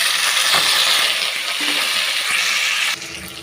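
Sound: onions and tomatoes sautéing in a pan

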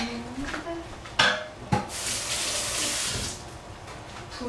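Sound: water running from the tap into the pot

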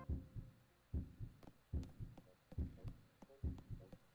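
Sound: heartbeat sound effect in a video game

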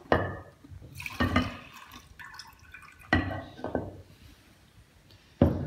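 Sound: pouring liquid off butter during churning

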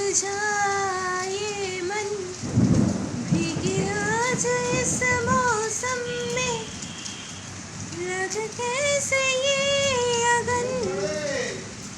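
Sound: heavy rain with thunder

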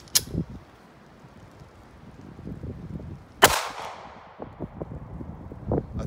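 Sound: Carbon City 75 grain lead-free 380 ACP pistol shot, 2.75" barrel

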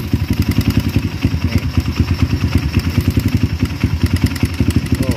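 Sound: Kawasaki KLX motorcycle engine ticking noise

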